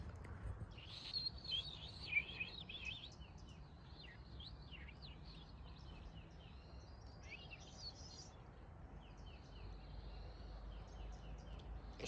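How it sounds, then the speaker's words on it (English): A wild bird calls repeatedly in mountain woodland, its odd, chirping notes and short trills fairly distant over a steady background hiss, with no talking. "It is such an odd sounding bird."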